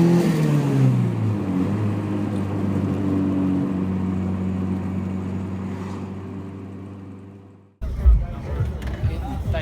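A Toyota Corolla KE20 with a turbocharged 1.6 litre 4A engine revs loudly and steadily, then the note drops away before a short burst of rough engine sound returns near the end, with a voice heard briefly.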